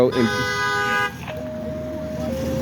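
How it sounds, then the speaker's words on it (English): A car horn sounds a sustained blast, then a second, lower-pitched honk follows and holds to the end. "She's beeping the horn and she's got a red light."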